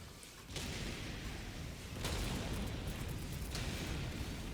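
Grenade explosions blasting bug holes in a sci-fi shooter video game, heard as broadband booming bursts at about half a second, two seconds and three and a half seconds, over a continuous rumbling battle din.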